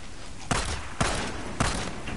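Three pistol shots ring out in the Days Gone video game, evenly spaced about half a second apart, each a sharp loud crack with a short decaying tail over low background noise.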